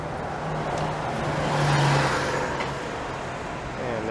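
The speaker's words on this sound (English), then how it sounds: "And there goes a 97" A 97 Yonge Street city bus passes along a busy Toronto street, its engine rumble swelling to a peak midway and then fading into steady traffic noise.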